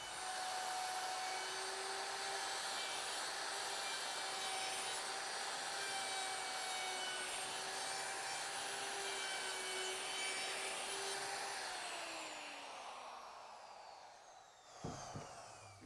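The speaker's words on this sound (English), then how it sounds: "I'm just going to take a little 1/4 inch round over bit and just take my router and round over the edges" A router fitted with a 1/4 inch round over bit whines steadily and loudly while rounding the edges of a wooden workbench top, then spins down and stops near the end.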